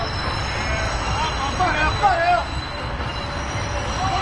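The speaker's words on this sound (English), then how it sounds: "So you can hear the train sounds right behind us" A Blue Line rail train rolls past just behind a softball field in Forest Park, a continuous rumble with brief wheel squeals, heard under ongoing talk.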